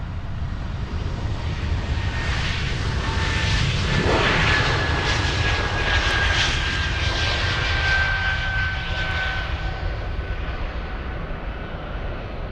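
A Swiss airliner jet passes at Munich airport, its broad engine roar loud and continuous throughout, swelling slightly near the middle with a faint whine over the rumble.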